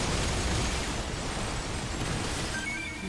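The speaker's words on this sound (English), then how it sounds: "lots of explosions" Dense, continuous rumbling blasts fill the scene as explosions go off in Earth Defense Force 6, a loud wall of booming noise with no clear gaps and no talk.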